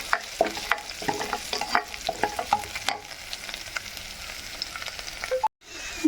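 Mushrooms and onion, with green chilli and curry leaves, are stirred and fried in a pan for a roasted-coconut mushroom curry. A steady sizzle carries close, repeated scraping stir strokes, then a brief silence near the end.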